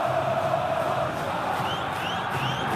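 Coritiba supporters roar in a packed football stadium during the 2011 Copa do Brasil final against Vasco, a continuous, distant wash of crowd noise with scattered cheers and whoops.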